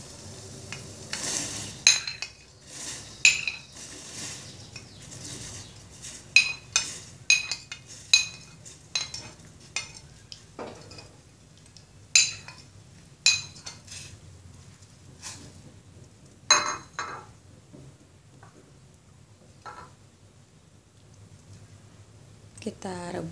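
Corn and onion are added to boiling water and stirred in a pot, heard as a series of scattered clinks and scrapes of a utensil against the pot, close and fairly quiet, with pauses between.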